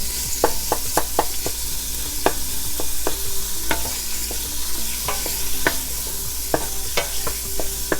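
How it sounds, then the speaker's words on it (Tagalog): Pork meat and pork cubes are stirred in a pot for lomi, with a steady soft sizzle and repeated sharp scraping and clinking of a utensil against the pot, nearby and without talk. "Then just give it a stir."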